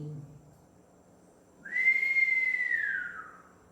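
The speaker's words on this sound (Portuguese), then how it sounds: "assobio." A single rising-then-falling whistle from a children's story, a clear bright tone lasting over a second that follows a quiet stretch, close and alone.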